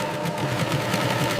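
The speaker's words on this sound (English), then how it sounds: "A high-speed industrial sewing machine zips across the top," A high-speed industrial sewing machine in a sugar factory stitches a bag closed with a steady, fast mechanical whir and rhythmic chatter.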